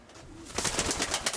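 Pigeons in a loft give a few soft cooing calls, close by and moderately loud, building after a quieter start; no one speaks.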